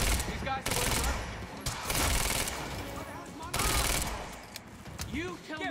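Gunfire in the Quantum Break video game comes as several dense bursts of rapid shots with loud broadband cracks, mixed with background game sounds and a voice speaking over parts of the action.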